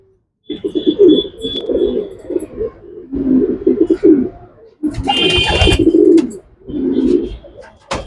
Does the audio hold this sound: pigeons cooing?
yes